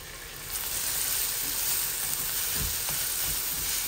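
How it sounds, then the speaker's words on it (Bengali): Pieces of pangasius fish fry in a little oil, giving a steady close sizzle that starts softly and then holds loud and even, with occasional stirring. "মাছের মধ্যে ও তেল দিয়ে রাঁধিলাম"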